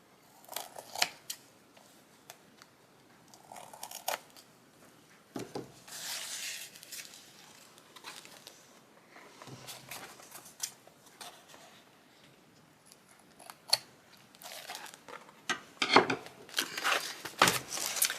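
Scissors snip through paper for a handmade junk journal, trimming closely around a shape; short irregular cuts and rustles come in bursts with quiet pauses between, close and fairly loud, no talking.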